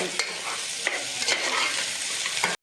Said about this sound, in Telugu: ఇప్పుడు బాగా కొంచెం ఫ్రై చేసుకోవాలి